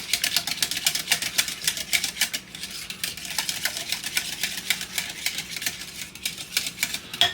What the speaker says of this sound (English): So you want to mix that.